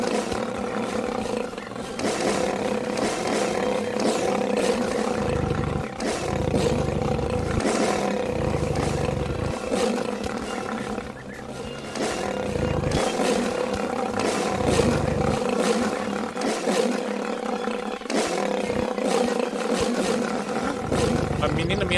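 Lions roar and brawl in the Wild Savannah game: deep, growling roars pile up almost without pause, loud and close, with a person talking over the fight.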